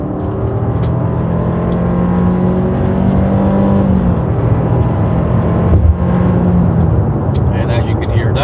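An SUV engine runs close by, producing a loud, steady droning hum with slight shifts in pitch across the whole stretch.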